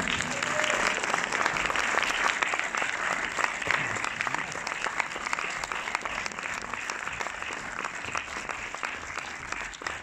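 Sustained applause from a cinema audience at a film premiere in Orléans, steady dense clapping filling the room for the full stretch without letting up.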